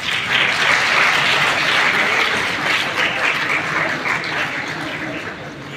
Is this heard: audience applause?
yes